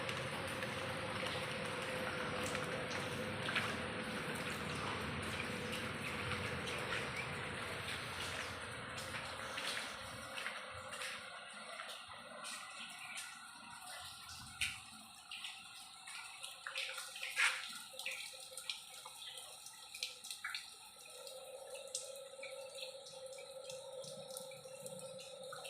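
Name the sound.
rain leaking and dripping inside a house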